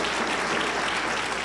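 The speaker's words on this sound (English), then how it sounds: "Those who favor Smith for Senate, so indicate by applause." An audience in a room claps together in a dense, even burst of applause that stays loud and steady throughout the short moment.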